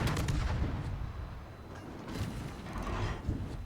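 Warship guns firing semi-armor-piercing shells in World of Warships, booming salvos with a heavy rumbling roar and a sharp report near the end, no talk.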